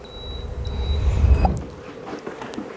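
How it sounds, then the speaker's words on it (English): An electric kettle heating water to 95 degrees for coffee makes a low, swelling rumble that peaks then subsides, with faint clicks and bubbling ticks near the end, moderately quiet in a home office. "That sound is the sound of the kettle boiling"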